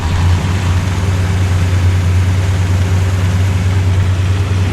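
A 1964 Ford Falcon engine idles smoothly and steadily close by, a loud constant low hum with no break, and nobody speaks.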